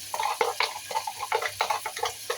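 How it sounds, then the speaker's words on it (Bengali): Dried fish cooking in a pan with onions fried until reddish, with ginger-garlic paste and spices, stirred by hand: repeated scraping, clattering strokes of a utensil over a soft sizzle, close and steady. "শুটকি রান্না করতেছি যে পেঁয়াজটা লাল হয়ে আসছে"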